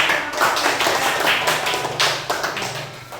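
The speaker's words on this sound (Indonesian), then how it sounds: "Tepuk tangan" Children in a classroom clap their hands after a group Quran recitation, a busy patter of close, uneven claps running throughout.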